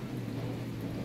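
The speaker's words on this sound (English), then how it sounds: "So there's heavy rain coming down." Heavy rain at Spa in the racing game rFactor 2, a steady dense hiss with low rumbling underneath, continuous and moderately quiet over a short stretch.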